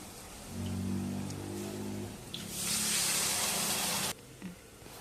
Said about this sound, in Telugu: ఇలా వాటర్ వేసుకొని ఇంకొక గ్లాస్ వాటర్ వేసుకొని